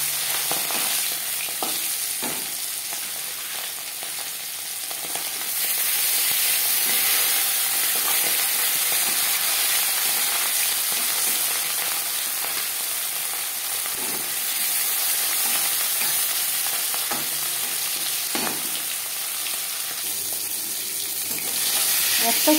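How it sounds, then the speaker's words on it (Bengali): Marinated katla fish slides into four spoons of hot refined oil and fries with a loud, continuous close sizzle that swells and settles over about twenty seconds, alone without speech. "4 চামচ রিফাইন্ড অয়েল গরম করে নিয়েছি। দিয়ে দেব ম্যারিনেট করে রাখা মাছ।"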